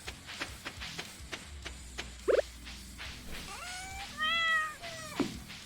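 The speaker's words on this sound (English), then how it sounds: "Good digital kitty." A cat meows in the Stardew Valley farming game, with a couple of clear, drawn-out cries standing out over soft game sounds and background music.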